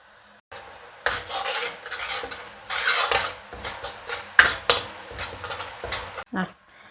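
Spice paste sizzles in hot oil in a pan while a utensil stirs and scrapes against the metal in uneven bursts, close and moderately loud, with clattering of cookware between strokes.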